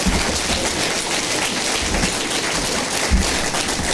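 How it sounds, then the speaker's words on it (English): A conference audience claps in a dense, continuous patter of applause at a steady level, with no voices over it. "you don't have to clap again"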